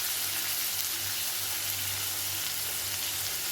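Chopped tomatoes and salt sauté in a pan for a South Indian coconut chutney served with idli and dosa, a steady close sizzle running without a break and with no talk.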